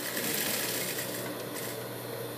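A sewing machine stitches a duck-bill style fabric face mask, giving a steady, dense mechanical whir that runs unbroken and fairly close for the whole stretch.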